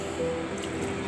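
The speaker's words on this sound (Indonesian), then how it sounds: "kurang lebih saya siram mungkin sekitar 1 literan ya ini" Liquid compost activator mixed with JMS is poured from a container onto heaped leaf, grass and weed compost, giving a soft, steady, close trickle and splash with faint wet squishes, no voice over it.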